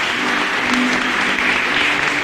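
An audience at a choir gathering in Lagoa dos Três Cantos, Rio Grande do Sul, claps in dense, sustained applause that fills the room steadily and loudly from start to finish.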